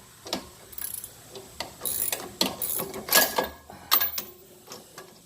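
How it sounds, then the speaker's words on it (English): Crescent wrench ratcheting against a Jeep JL sway bar end link bolt during a lift kit install, a series of close metallic clicks and scrapes in uneven bursts, no talking. "I am using a crescent wrench on one end"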